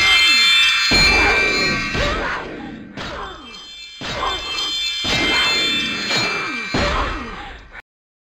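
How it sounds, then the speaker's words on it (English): A harsh screeching, glassy tinkling noise from the Wizards and Warriors video game, loud and repeating in bursts about once a second with short gaps between them. "It's sort of like the tinkling of a wind chime or broken glass mixed with a kind of a high-pitched screech"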